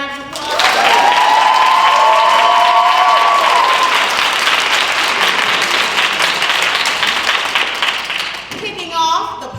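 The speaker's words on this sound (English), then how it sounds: "applause" Loud, sustained applause from a pageant audience, a dense roar of clapping with some cheering that holds strong for several seconds before tapering off, with a voice returning at the end.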